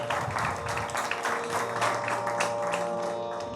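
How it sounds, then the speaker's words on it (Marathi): Audience clapping after a devotional music performance, steady and continuous from a seated crowd, moderately loud, with a faint sustained tone running underneath. "त्याच्यासाठी सुद्धा एकदा जोरदार टाळ्या"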